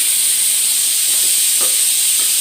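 A pressure cooker vents steam while biryani cooks: a loud, steady high-pitched whistling hiss that holds unbroken and close throughout.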